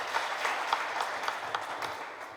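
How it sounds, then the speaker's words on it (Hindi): Audience at a Hindu religious discourse (Gau Katha) applauding on request, a steady wash of many hands clapping at moderate distance with a few sharper individual claps standing out, no talking. "एक बार करतल ध्वनि"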